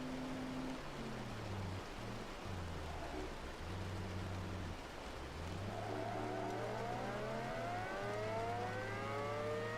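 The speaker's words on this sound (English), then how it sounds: "Very nice touch with the sirens." Wailing civil defense sirens in a tornado-chasing video game rise and fall in pitch over a steady low vehicle hum, several overlapping tones sweeping slowly and sounding fairly distant.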